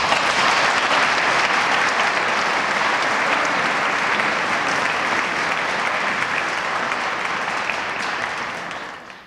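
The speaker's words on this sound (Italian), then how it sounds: "che accogliamo con un applauso" A church congregation in Asso applauds at the feast of Saint Apollonia, welcoming a priest near the 50th anniversary of his ordination. The clapping is loud, dense and sustained for about nine seconds, then fades out at the end.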